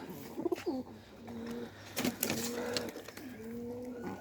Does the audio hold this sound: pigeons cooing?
yes